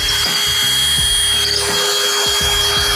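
A power drill bores into scrap wood in a garage, its loud whining motor rising and falling in repeated pulses as the bit is pushed in and eased back, close and continuous with no talk.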